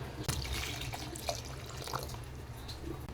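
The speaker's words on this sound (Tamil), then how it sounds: "இப்போ ரசத்துக்கு தேவையான தண்ணி ஆட் பண்ணிடலாங்க" Steady running water trickles and splashes into a cooking pot for rasam, with a few faint clinks, fairly close and continuous throughout.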